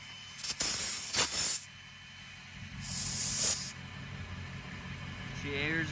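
Compressed air hissing from an air hose as it fills the onboard air tank for a train horn installed on a pickup truck, coming in two loud bursts separated by quieter stretches of low hum, with a rising squeal near the end.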